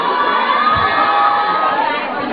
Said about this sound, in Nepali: जोरदार तालीले स्वागत गरौँ